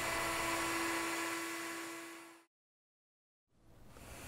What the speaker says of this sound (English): Occasionally during a pass, you will see the cutter lift slightly and resume the cut.